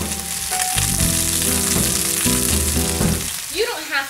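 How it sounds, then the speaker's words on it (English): Lamb shoulder sears loudly in a hot pan on a stovetop after being flipped, a dense, continuous sizzle close to the ear with a few brief knocks near the end. "flipping my lamb. Just gonna sear the other side."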